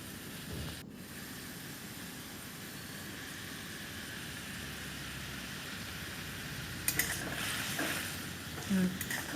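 Fried mourala fish simmering in boiling spicy gravy, a steady soft bubbling hiss throughout with a few brief clinks of utensils near the end.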